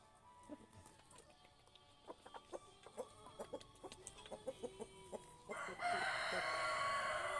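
Golden Buff Orpington crossbred hens cluck in short, scattered bursts around a farm coop, quiet and irregular, before a louder, sustained rooster-like crow or squawk rises near the end.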